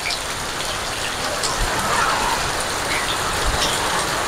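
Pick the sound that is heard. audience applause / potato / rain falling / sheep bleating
rain falling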